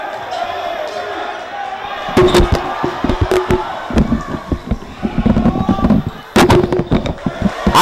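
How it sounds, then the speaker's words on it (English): A high school basketball crowd buzzes in a gym after a putback attempt, with loud sustained cheering, sharp thuds and bangs scattered throughout, and a commentator talking over the noise. "The crowd begins to buzz after an electrifying putback attempt by Alton."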